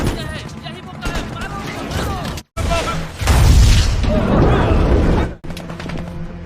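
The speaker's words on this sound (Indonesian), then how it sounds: "Sebuah RPG meledak mengenai bagian depan kendaraan." In a war film, an RPG hits the front of an armored vehicle in a loud, heavy blast with a low roar that follows, set among gunfire and crashing noise, with brief silent gaps between shots.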